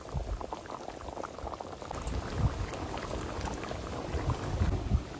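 Hilsa fish in mustard curry bubbling in a pan, a continuous dense gurgle and rumble of boiling liquid that stays steady and fairly loud throughout.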